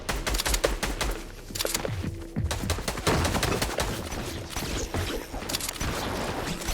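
Submachine gun fire in a video game, dense rapid bursts and repeated shots throughout, loud and close with brief pauses between volleys.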